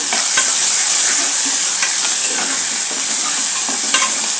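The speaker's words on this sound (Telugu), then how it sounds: "ఇప్పుడు టమాటాలు పచ్చిమిరపకాయలు వేసేసాను." Tomatoes and green chillies fry loudly in a hot pan, a dense steady sizzle with scraping stirring strokes throughout as they cook for a chana chicken curry.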